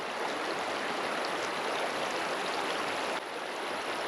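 Strong river current rushes steadily over a shallow riffle on a warm evening fishing trip, a continuous broadband hiss of flowing water close to the microphone, unbroken for the whole stretch.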